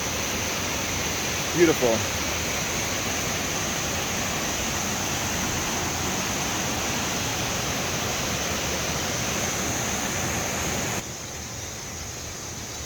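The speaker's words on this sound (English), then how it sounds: "Look at that waterfall." Mae Sa waterfall in Chiang Mai pours with a steady, broad rushing roar that holds evenly throughout, close and constant, with a brief spoken word near the start.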